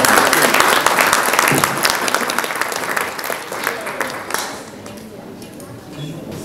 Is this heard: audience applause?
yes